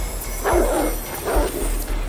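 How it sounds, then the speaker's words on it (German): Dogs in the video game Oddworld Soulstorm, responding to an alarm, bark and yip loudly in two or three close bursts over a steady low hum, with no talk. "jetzt kommen wirklich neue Hunde wegen dem Alarm"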